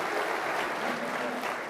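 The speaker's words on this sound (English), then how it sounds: "A round of applause for Chairman Walter Nyambati." Steady audience applause, a dense wash of many hands clapping at once, loud and continuous for the whole moment.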